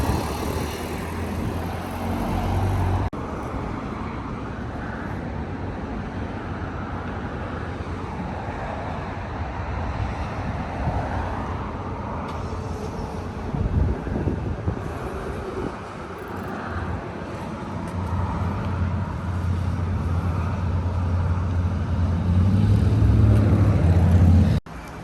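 A Genesis G80 pulls onto the lift at a muffler shop in Melbourne, its low engine rumble steady and close with faint wind, growing louder toward the end as it rolls in.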